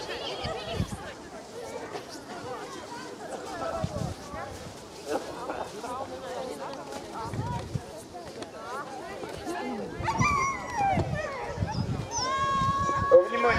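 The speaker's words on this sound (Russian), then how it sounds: "Видите, как собаки реагируют?" Husky sled dogs at a winter race start let out yips, whines and barks among a crowd, with people talking and an announcer nearby, the dog calls growing more excited toward the end.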